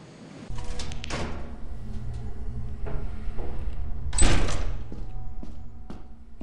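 A door opens in the video game Lethal Company with a heavy mechanical sliding rumble and thuds, building to a loud clunk midway before settling into low hum and scattered knocks, no talk over it.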